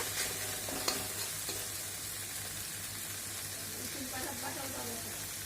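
Kharkol leaves and spices being stirred and fried in a pan, a steady low sizzle with scraping stir strokes near the start and end, a faint hum underneath.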